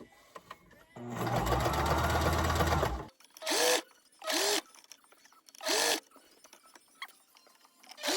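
A sewing machine runs a straight stitch on a T-shirt ruffle, pleating as it goes: one steady two-second burst of mechanical whirring, then short separate stitch runs, close and fairly loud.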